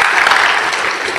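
A church congregation claps hands together in a brief, loud, dense burst of applause that fills the room.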